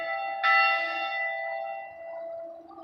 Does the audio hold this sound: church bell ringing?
yes